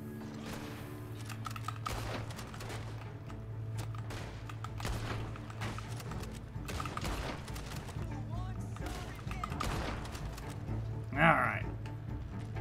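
Rifle gunfire in the Red Dead Online video game during a bounty hunt near Armadillo: scattered sharp shots over a busy game soundscape, with one louder crack near the end, and voices talking throughout.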